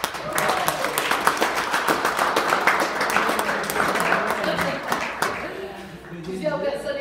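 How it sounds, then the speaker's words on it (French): Audience applause at the launch event of a 26th telethon, steady clapping with distinct sharp claps, heard alongside voices throughout and tapering near the end. "Vous pouvez applaudir."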